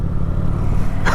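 A 2012 Kawasaki motorcycle engine revs hard from too much throttle, a loud, close, low roar that holds steady through the short moment, with rushing wind noise over it.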